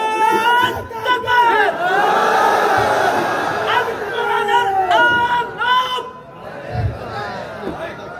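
A large crowd at a Bangla Islamic sermon gathering shouts back in unison to a takbir call, loud overlapping voices rising and falling in several surging chants.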